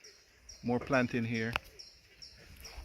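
Bird calling on a farm in Jamaica, a short run of a few bright, rapid chirps close by that stop after about a second, followed by faint rustling outdoor background.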